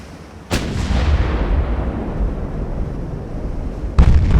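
Naval guns booming in the Ultimate Admiral: Dreadnoughts battle game, one heavy blast with a long rumbling decay and a second sharp shot near the end, loud and close with no talk.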